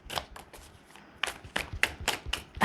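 Lord of the Rings tarot cards riffle and snap in a series of quick, crisp bursts, several shuffles in close succession near at hand.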